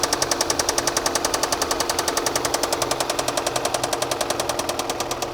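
A damaged Audi engine knocks continuously, with a fast, steady rhythm of sharp metallic taps close up and loud throughout, with no other sounds.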